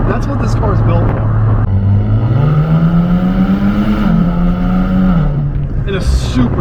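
Nissan Z sports car with a 400 hp engine and quick-shifting 9-speed automatic accelerating hard, steady loud engine drone rising in pitch through a long pull, with a brief lower note near the end.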